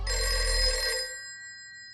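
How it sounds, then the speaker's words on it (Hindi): A telephone bell rings loudly in a home: a single close, sustained metallic ring that fades away with no voices. "बज गई घंटी। फोन तो पड़ोसी का आया था"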